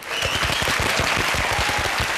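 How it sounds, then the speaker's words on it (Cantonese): Studio audience applause on a Cantonese youth talk show fills the room, a dense continuous roar of many hands clapping at steady loudness throughout. "掌聲歡迎"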